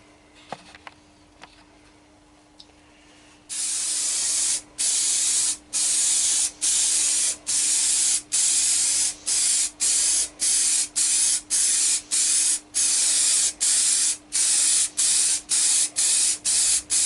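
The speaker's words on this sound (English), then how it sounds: "So give it a coat or two of clear lacquer before you think about touching the surface" Clear lacquer is sprayed from a can onto a woodturned bowl, a loud close hiss broken into regular short bursts that come faster toward the end, after a few seconds of quiet handling.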